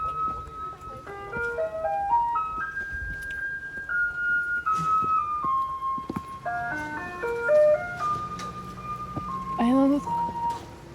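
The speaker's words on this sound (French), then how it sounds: "Camion poubelle." A garbage truck in Taiwan plays its electronic melody, a bright tune of stepped, whistle-like notes carried over steady street traffic noise, with people talking nearby.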